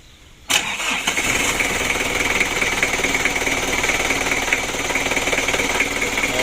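A diesel car engine starting after an oil and coolant top-up, with a sharp crank that catches immediately and settles into a steady, loud, rattling idle.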